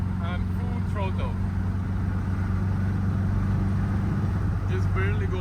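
A Triumph TR4A engine with a rough-running, low-power fault drones steadily at full throttle, a loud continuous low hum with no clear rise in pitch, while someone talks over it throughout.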